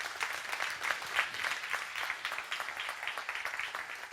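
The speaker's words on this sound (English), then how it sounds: "So would you clap for Marissa Hayner?" A church audience claps steadily, a soft, continuous patter of many hands heard from a distance.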